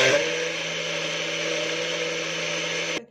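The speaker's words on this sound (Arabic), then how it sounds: "عاد غنديرو في الخلاط الكهربائي، غادي يضرب شويه" Electric blender whipping baghrir batter for Moroccan semolina pancakes, a loud steady motor whir with a constant hum that runs unbroken for about three seconds before cutting off abruptly.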